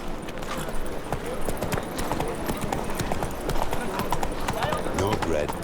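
Hooves of a horse clip-clop at a quick, steady pace in The Witcher 3, loud and close, with a person talking over the riding sounds.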